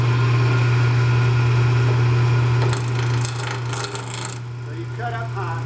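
Wood lathe spinning double bobbin legs at high speed, a steady motor hum with rasping tool-on-wood scraping that swells and fades partway through.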